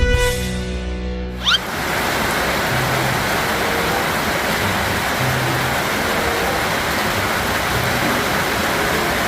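Steady, loud rain pours down at an elephant home, a dense continuous hiss of falling water that fills the whole stretch after a brief moment of other sound at the start.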